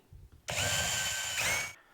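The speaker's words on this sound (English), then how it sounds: "we are going to drill right through this pickup cavity into the back" A power drill bores through a Fender Stratocaster guitar body from the pickup cavity to the back, a loud, steady whining burst lasting over a second, close and alone.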